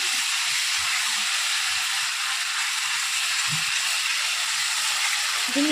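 Masala paste frying in a kadai gives a continuous, even sizzle and hiss with faint low clatter beneath, steady and close throughout.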